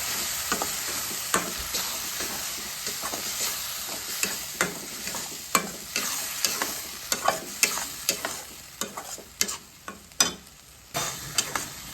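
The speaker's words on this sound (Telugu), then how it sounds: "టమాటా పచ్చి స్మెల్ పోయేదాకా దీన్ని వేయించాలి" Tomato cashew gravy frying with onions in a pan, a continuous hiss of sizzling broken by irregular sharp scrapes and taps of stirring, close and unaccompanied by talk.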